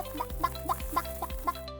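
Hens in a children's story cluck and peck, giving about five short, rhythmic clucks, close and fairly soft, with nothing else heard.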